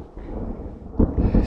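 Thunder on a mountain trail on Ceahlău, a low muffled rumble that builds and then rolls louder in a couple of swells near the end, fairly close and without speech.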